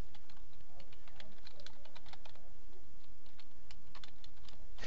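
Rapid, irregular clicking of keys on a computer keyboard as a reply is typed, fairly close and steady for the whole stretch with a faint low background hum.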